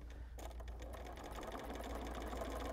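Domestic sewing machine doing free motion quilting, stitching a short line: a fast, even mechanical chatter of needle strokes that starts abruptly and runs steadily, close and clear with no talk.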